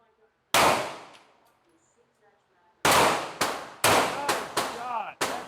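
Handgun shots at a shooting range, loud and close, one shot followed by a pause and then five shots in a quick irregular string, each ringing out with a short echoing decay.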